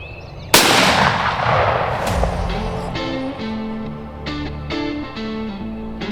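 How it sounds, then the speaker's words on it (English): A single loud, close shotgun blast fired at a turkey during a Kentucky creek-bottom gobbler hunt, a sharp crack followed by a long rolling echo that fades over several seconds. "Shoot the one on the far right."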